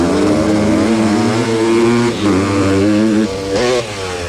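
Castrol Honda racing motorcycles run hard on a circuit, a loud, continuous high-revving engine howl with slight pitch shifts through gear changes, close and dominant throughout.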